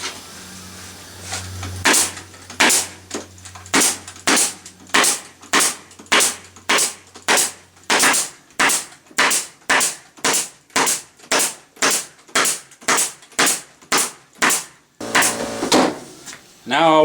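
Staple gun fastening foundation into beehive frames held in a jig, firing about twenty sharp, evenly spaced snaps up close, with a low hum at the start.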